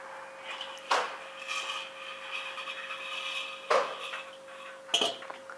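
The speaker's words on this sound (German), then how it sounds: "nehmen wir mal den Deckel ab" Metal lid lifted off a Weber Smokey Mountain Cooker smoker holding pork cheeks, giving three sharp metallic clanks and scrapes over a steady humming background, close and clear.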